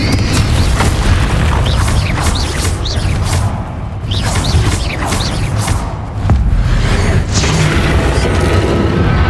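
Confringo fire-blast spells in the video game Hogwarts Legacy go off in a dense battle: repeated heavy booms and thuds with crackling bursts, loud and close, over continuous game effects and faint voices.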